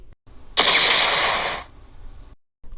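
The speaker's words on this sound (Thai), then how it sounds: "กระสุนนัดแรกที่ระเบิดออกไป" A single loud, sharp blast bursts out and rings for about a second before fading into quiet.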